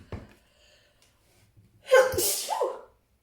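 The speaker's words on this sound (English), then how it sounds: "Confirmation sneeze." A single loud sneeze with a sharp intake of breath just before it, following some soft, faint sounds.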